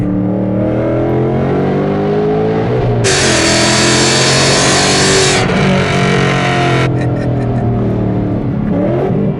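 A 2019 Mustang GT's engine climbs through rising revs under hard acceleration with rev-matched shifts, a loud, close, continuous engine roar from start to finish.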